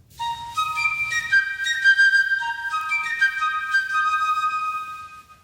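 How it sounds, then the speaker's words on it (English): Someone whistles a clear, lilting tune alone, with bright sustained notes that rise and fall steadily over several seconds. "on account of this tune I whistle"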